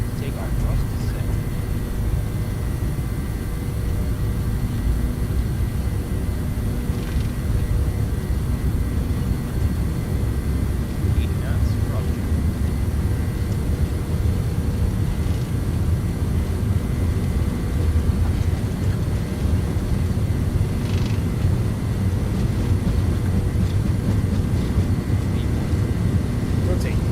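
Airliner engines spool up to takeoff thrust in Microsoft Flight Simulator on a TWA-style flight, a steady loud low roar and rumble held throughout, with talk over the top.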